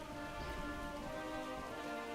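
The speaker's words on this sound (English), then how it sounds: "What's that sound? Oh, it's raining." Steady rainfall, a continuous soft hiss of drops pattering on surfaces, fairly quiet and even in level with no voices or thunder.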